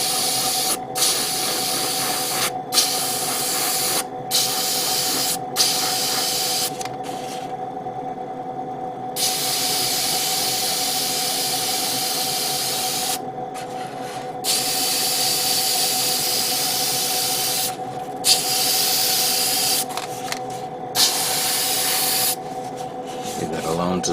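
An airbrush compressor spraying paint on an RG Hi-Nu Gundam model kit gives a loud, steady hiss in repeated bursts, with brief pauses between passes and a constant motor hum underneath.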